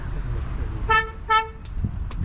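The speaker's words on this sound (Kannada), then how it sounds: "ಟ್ರಕ್ಕದ ಹಾರ್ನ್ ಥರ ಸೌಂಡ್ ಬರ್ತಿದೆ" A vehicle horn with a deep, truck-like tone, heard near a car museum in Mysuru, gives two separate honks about half a second long each over steady road and crowd noise.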